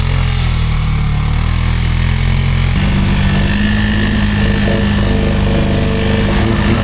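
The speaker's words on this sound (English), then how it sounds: "Can-Am's towing the Honda." A Can-Am off-road vehicle idles and chugs steadily while towing a Honda on a muddy trail, its low, continuous engine drone loud and close throughout with no voices.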